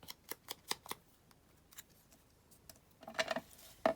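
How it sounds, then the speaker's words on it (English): Scissors snip out a paper butterfly image in quick close clusters of crisp cuts, with a quiet pause between bursts, and no one speaking. "So I'm just going to cut this out and just see."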